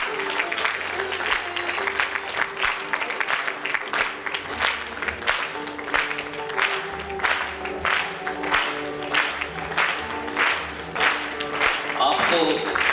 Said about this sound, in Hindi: हम जोरदार तालियों के नाद से हमारे आज के महर्षि सिद्धताई का અભિવાદન કરેંગે